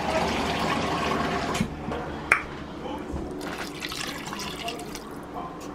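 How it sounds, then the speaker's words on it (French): Water poured into a pot of simmering broth made with dried mushrooms, smoked fish and caterpillars; a steady splashing, trickling wash runs close and fairly loud throughout, with a few small clinks. "Et je vais ajouter encore de l'eau."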